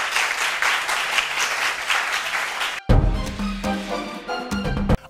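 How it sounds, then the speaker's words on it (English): An audience at a school quiz competition bursts into loud, steady applause for a few seconds before it cuts to a musical sting with bright tones. "A round of applause."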